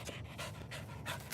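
Rapid rhythmic panting from dogs at play comes close to the microphone in a steady run of breathy huffs, with low rumbling underneath and no talking.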